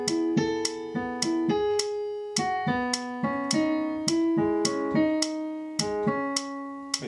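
Piano playing a piece at about 105 beats per minute: a moderately paced melody of clear, ringing notes over steady chords, heard alone at moderate volume.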